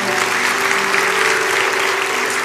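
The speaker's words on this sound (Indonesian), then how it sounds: "Kasih tepuk tangan untuk Tuhan Yesus." A church congregation at a sermon applauds loudly and continuously, a dense even wash of clapping with some voices beneath it.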